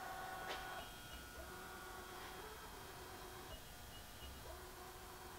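Table of a Southwest Industries TRAK DPM CNC vertical mill with a 10 by 50 table traverses along the Y axis on its ball screw, a steady low motor whine and faint tonal hum with a few soft clicks, fairly quiet.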